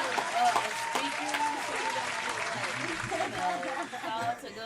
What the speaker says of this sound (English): Can I get another clap?